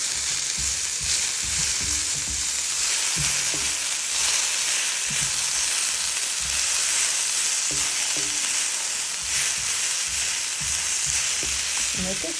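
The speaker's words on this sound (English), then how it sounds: "I'm going to turn the heat back up to high for stir fry." Stir-frying over high heat for a low-carb keto dish, with avocado oil spritzed into the pan, gives a loud steady sizzle broken by repeated scraping stirs from start to finish.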